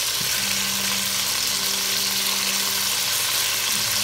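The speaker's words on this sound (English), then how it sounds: "flip your meat on the other side so that side will be cooking, so that side will fry" Meat for pepper steak sizzles steadily in a hot pan, a loud continuous crackling fry with a brief stir or flip near the start and end.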